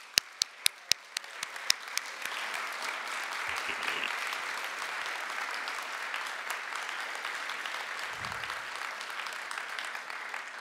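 An audience at an anniversary celebration applauds honorees. A few sharp, separate claps open, then swell after about a second into sustained, dense clapping that holds evenly at moderate volume to the end.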